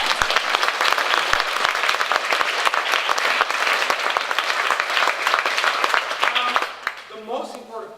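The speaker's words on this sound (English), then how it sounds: "a round of applause for ourselves" An audience at a wrap-up event bursts into dense, loud applause with scattered sharp claps and some cheering, sustained for several seconds before tapering off as a voice begins speaking near the end.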